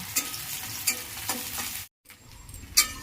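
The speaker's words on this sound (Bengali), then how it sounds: "তেলটা গরম হয়ে গেছে আমি এর মধ্যে এখন দুটো শুকনো লঙ্কা আর একটু কুচানো পেঁয়াজ দেবো" Two dried chillies and chopped onion hitting hot oil in a pan: a close, bright sizzle with stirring scrapes and spatula taps, broken by a brief silent cut before the frying resumes.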